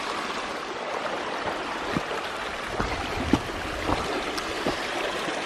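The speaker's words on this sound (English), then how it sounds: "I'm gonna zoom in on one of those waterfalls over there." A rocky mountain stream with waterfalls nearby rushes in a steady, dense wash of flowing water, with a few faint splashes and knocks standing out over the continuous roar.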